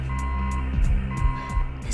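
Alarm blaring inside a facility in the video game Oni, a steady electronic two-tone beeping that repeats evenly over a low mechanical hum, loud and continuous.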